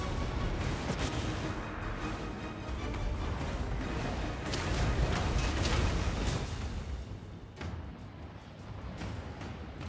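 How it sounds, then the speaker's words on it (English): Blade claw catapult firing in Total War Warhammer II amid a battle, repeated heavy thuds and crashing impacts over a constant roar of fighting, loud and busy throughout. "Blade claw catapult!"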